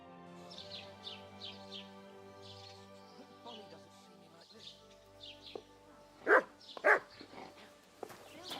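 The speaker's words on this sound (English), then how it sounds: "You silly doggy." A dog in the video game Kingdom Come: Deliverance II gives two sharp, loud barks in quick succession, over a steady game soundscape with chirping birds and a humming background.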